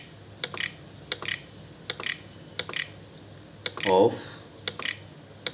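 Typing on a computer keyboard: about eight quick bursts of crisp clicking keystrokes spaced roughly evenly, close and clear over a quiet hum, with a short voice murmur near the middle.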